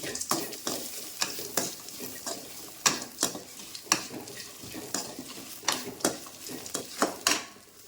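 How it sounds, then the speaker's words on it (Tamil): Spices sautéing in a pan for tomato kulambu, with a spatula scraping and stirring in repeated sharp strokes over a steady low sizzle. No voices. "அதையுமே போட்டு வதக்கிக்கலாம்"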